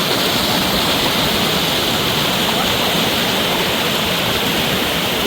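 Fast water rushes steadily out of Thattaiyamalai pond at Vellappalayam, a dense, unbroken roar of flow heard close and loud the whole way through.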